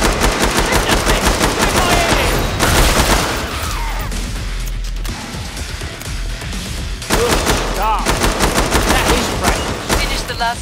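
Gunfire from a zombie-shooter game in an office building: loud bursts of rapid shots in two dense stretches, with a quieter lull between them and background game sounds throughout.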